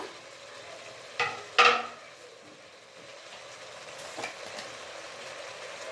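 Chopped tomato frying and stirred in a pan for veg kurma, with a soft steady sizzle broken by two sharp clinks of the spoon near the start and a quieter scrape later.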